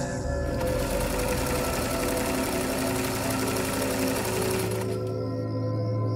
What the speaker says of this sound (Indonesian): aku mendengar ada suara mesin jahit